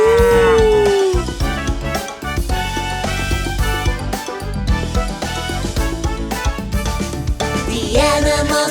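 A long, sliding cartoon-style cow moo, likely a voice imitation, opens over a loud, bouncy children's song, with another moo near the end, both mixed into the busy music.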